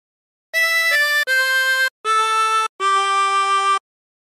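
Harmonica plays a phrase of There's a River of Life as four clear sustained notes, the first two short and close together, then two longer held tones with brief gaps, solo and close.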